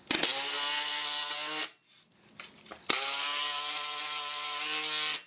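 A power driver runs lag screws through brackets and plywood into a 4x6 post on a pole barn garage door install, two long steady whining bursts separated by a short pause with faint clicks and handling.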